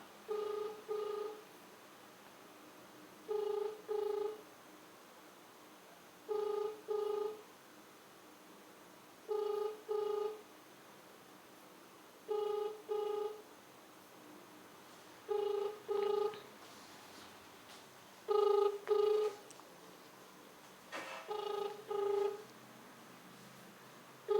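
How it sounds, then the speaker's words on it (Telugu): A phone call goes unanswered, an outgoing ringback tone repeating in regular paired pulses about every three seconds, clear and fairly quiet over a hushed background. "లింగయ్య ఒకసారి ఫోన్ చేస్తున్నా"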